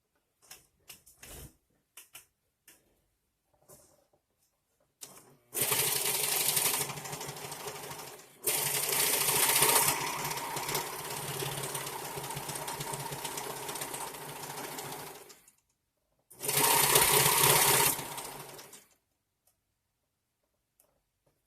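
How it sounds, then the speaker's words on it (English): A serger stitches shirt sleeves together, running in fast, loud whirring bursts of several seconds each, with brief stops and a few soft handling clicks between runs, no voices present. "I'm gonna start and connect the beginning of the sleeves using a serger"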